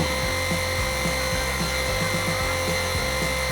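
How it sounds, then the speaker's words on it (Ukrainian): Motorized polishing wheel loaded with blue paste buffing the metal of a 1979 spinning fishing rod, a continuous loud whirring hum with slight periodic wavering as the part is worked, steady and close without speech. "наносимо на круг синю пасту і поліруємо метал вже нею"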